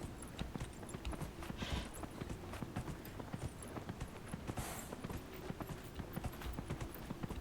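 Hooves of a ridden horse in Dragon Age: Inquisition clip-clop in a quick, steady gallop rhythm, faint and continuous throughout, with no talking over it.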